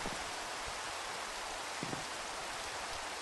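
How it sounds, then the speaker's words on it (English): Steady rain falling in the video game Minecraft, a continuous even hiss of drops spread across the whole clip with no talking over it. "And it's also raining now."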